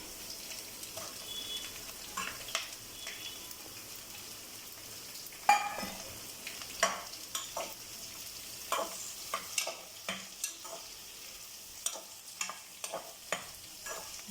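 Cut okra (lady's finger) is stirred into a pan of softened onions and fried, with a low continuous sizzle broken by irregular scraping stir strokes and clinks of the spoon, moderately close.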